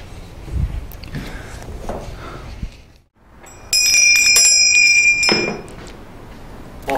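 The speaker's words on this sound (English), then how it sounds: "If you'll ring the bell, I'll come out here and take care of you, okay?" A bell rings at the reception desk of a chiropractic office, one bright metallic ding that lingers for a second or two amid faint room noise.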